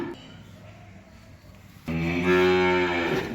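A nine-month-old heifer calf on a cattle farm gives one loud, drawn-out moo that begins suddenly and holds near the microphone after a quieter stretch of low background noise.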